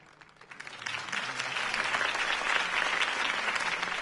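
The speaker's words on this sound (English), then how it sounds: "could have heard that applause" Video game crowd applause that builds quickly and continues as steady, dense clapping filling the space.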